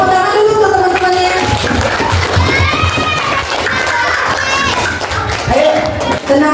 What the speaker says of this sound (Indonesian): Baik, tepuk tangan dulu untuk teman-temannya.